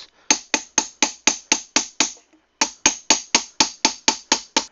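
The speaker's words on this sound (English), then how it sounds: "we're going to start doing just little taps" Little hammer taps on sheet metal held over a rounded stake during dishing and planishing, a steady run of sharp, close, ringing strikes with one short pause partway through.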